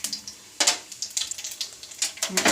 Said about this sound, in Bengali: কড়া গরম হয়ে গেছে, তেলও গরম হয়ে গেছে। আমি দিয়ে দেবো দুটো শুকনো লঙ্কা ফোড়নে, দেব একটু কালো জিরে